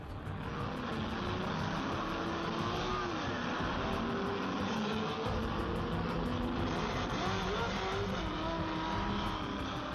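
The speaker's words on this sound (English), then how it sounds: "the 7-liter Ford GTs are pulling away from the works Ferraris" Ford 7-liter GT and works Ferrari race cars at Le Mans, engines roaring loudly and continuously as they accelerate away, with rising and falling pitch from multiple cars blending together.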